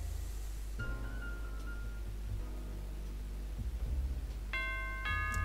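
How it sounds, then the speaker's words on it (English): A doorbell chimes in the PC adventure game Leisure Suit Larry: Love For Sail, with a melodic ding-dong tone near the end following quieter game music and effects. "So now we push the doorbell."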